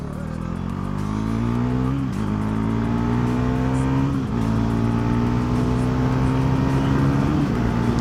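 A Bajaj Pulsar NS400 motorcycle accelerates hard and close, its engine note climbing steadily in pitch through several gear changes, with a brief dip at each shift and no talk.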